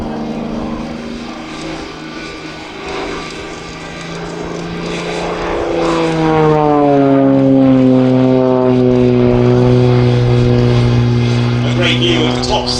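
An XA41 propeller aerobatic aircraft performs at an airshow, its engine droning loudly and shifting in pitch as it manoeuvres, rising to a strong sustained roar while a commentator's voice carries over it.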